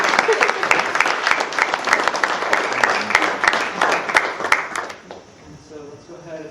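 An audience at a community talk on environmental injustice applauds in a brisk burst of close, sharp claps with voices mixed in, cutting off near the end as quieter talking takes over.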